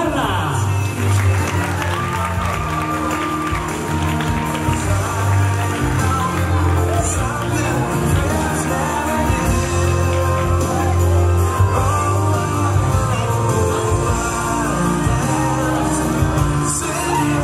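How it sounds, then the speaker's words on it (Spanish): Applause and cheering from a crowd at a quinceañera for Karla, steady clapping mixed with shouts and whoops over background music and some talk. "Fuerte el aplauso para Carla"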